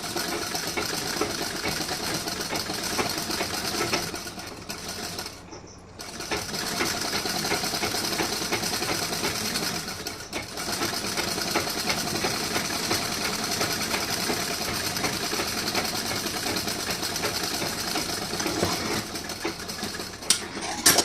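A sewing machine stitches the sleeve of a blouse with a steady, close mechanical whir, briefly pausing twice before running on again, with no voices.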